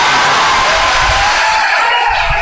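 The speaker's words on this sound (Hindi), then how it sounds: "जोरदार तालियां" An audience at a Hindi poetry gathering breaks into loud, dense applause, a continuous roar of clapping that fills the room for the whole moment without easing.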